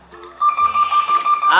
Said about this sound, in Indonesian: Aduh, telepon lagi.